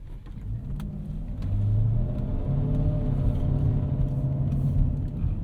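A 1998 Lexus GS 400 V8 with an exhaust leak rumbles steadily from close by, rising in level as the engine is revved a little, a deep continuous drone with no talking.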